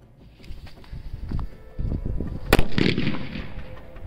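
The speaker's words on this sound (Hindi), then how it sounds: "क्या शानदार और जोरदार धमाका था हमारा जो सुपर बुल्ट बम था" A sharp Diwali firecracker bomb blast cracks out loudly once, followed by a brief rumbling tail, with scuffling and background noise before it.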